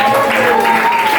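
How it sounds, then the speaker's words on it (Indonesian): Classmates clapping for a student in a classroom, brief dense patter of hands with a voice and a tonal hum running underneath. "kita tepuk tangan dulu untuk Farel."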